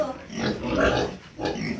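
Pigs, including a boar and a sow, grunting and snorting up close in a short burst on a farm, with a voice talking over them.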